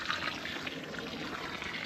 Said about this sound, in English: all I'm doing is just filling up the depression reasonably full, and letting that water slowly seep